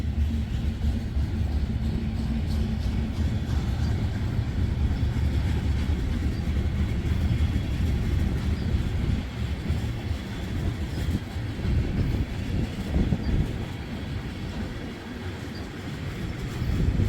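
Wheeling & Lake Erie freight train hauling styrene cars rumbles past on a hillside line, a loud continuous roar of wheels and rolling cars with faint rhythmic clatter, no talk.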